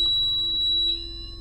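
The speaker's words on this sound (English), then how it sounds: "the REM pod alarm goes off in the most strangest sound ever" A REM pod ghost-hunting device sounds a steady, shrill electronic alarm tone, continuous and fairly loud through the short clip, with no talking over it.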